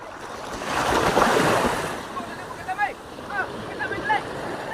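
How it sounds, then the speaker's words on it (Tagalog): Ocean waves break and wash in close by, a broad surging roar that peaks early and then recedes, with excited voices and calls heard over the fading surf. "Pag nabalik ang alon sa akin, ang lakas ng impact."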